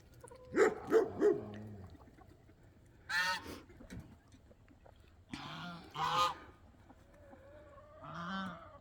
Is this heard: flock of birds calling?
yes